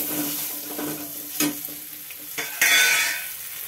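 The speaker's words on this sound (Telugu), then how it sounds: "బాగా ఫ్రై చేసుకుందాం" Spices frying with salt and turmeric in a pan for Andhra-style mango pulihora, a steady close sizzle broken by several sharp scrapes and clinks of a spoon stirring against the pan.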